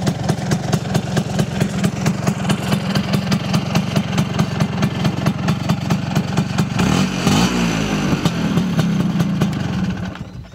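A Vespa PX200 two-stroke scooter engine idles with a steady rapid putter, close and loud, shifting briefly in pitch partway through before settling and fading at the end.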